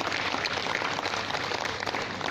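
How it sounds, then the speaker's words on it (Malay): Applause from an audience at a university alumni talk session, a steady wash of many hands clapping at moderate loudness throughout the short span. "Kita berikan tepukan."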